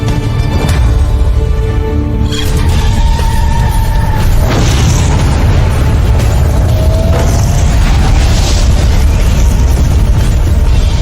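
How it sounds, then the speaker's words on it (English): A propane-filled tanker car explodes after a freight train rams into it in a small town on the Texas-Arkansas border, giving a loud, sustained roaring blast and rumble that fills the whole stretch with dense, continuous noise. "In the collision, the tanker car explodes, spreading the fire."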